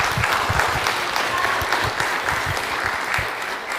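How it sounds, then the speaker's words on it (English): An audience at a conference talk in Hall B at OpenFest 2024 gives sustained applause, dense and steady from start to finish, with no voices standing out. "let's run a round of applause"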